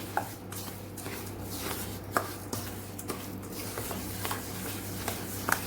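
Red chilli powder being mixed into pickle masala for instant gunda and raw mango pickle: soft, steady scraping and stirring with a few sharper taps against the bowl, close and fairly quiet, with no talking.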